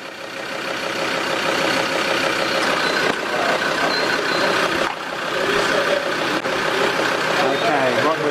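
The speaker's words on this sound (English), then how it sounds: "with the engine running, that's the four-wheel drive running" A four-wheel drive's engine runs at a steady idle, a continuous close mechanical drone with a faint tonal hum, while an indistinct voice may be present underneath.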